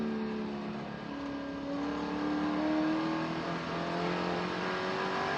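A Spec Corvette race car engine howls steadily at Buttonwillow Raceway, pitch climbing and easing through gear changes as slower class cars are passed, loud and continuous with no talk.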